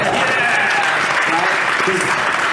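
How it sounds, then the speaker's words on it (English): Steady audience applause at a sci-fi convention in Malmö, dense clapping that fills the whole moment, with a few voices mixed into the crowd noise. "Come on, that's worth an applause,"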